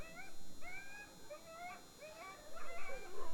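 Magyar Agar racing dogs shut in the starting box whine and yip in high, rising cries, several overlapping bursts close by, growing more insistent toward the end.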